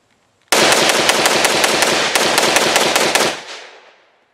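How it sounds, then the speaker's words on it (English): A Ruger 57 carbine in 5.7x28mm empties its magazine in rapid fire: about three seconds of fast, loud, close shots, then a fading echo. "but it's still fun to do a little mag dump."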